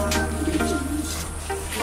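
Pigeons in a loft coo in soft, low, repeated calls over a constant background hum, with no one speaking.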